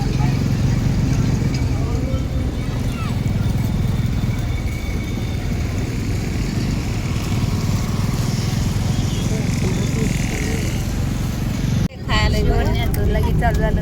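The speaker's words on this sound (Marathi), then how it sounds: "Mangalvedha bus stand" Traffic and engines at the Mangalwedha bus stand, a continuous low rumble of idling vehicles and motorbikes with background voices, ending in a sudden jolt followed by nearer movement.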